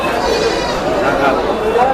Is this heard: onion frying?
no